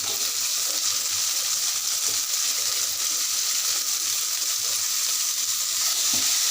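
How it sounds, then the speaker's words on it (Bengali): Onion, capsicum, potato and peas fry in a pan, a continuous loud sizzle with faint stirring scrapes throughout, no voices. "সবজিগুলো আমি ভালো করে ভেজে নেব।"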